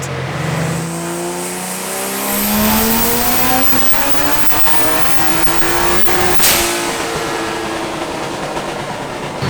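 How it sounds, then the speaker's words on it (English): A Ford GT350 with a Barra engine swap runs on a dyno, its engine note climbing steadily through a long loud pull with rising harmonics and a sharp peak near the end, close and continuous. "this car does not seem violent. Like it seems very civil on the dyno"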